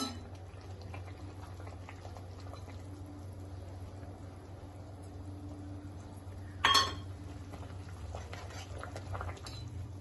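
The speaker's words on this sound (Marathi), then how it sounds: "पाण्याला उकळी आल्यानंतर आपण यामध्ये ही पिठी टाकणार आहोत" Water boils in a cooking pot for pithla, a gram-flour dish, giving a faint, steady bubbling hiss with a single sharp utensil clink partway through.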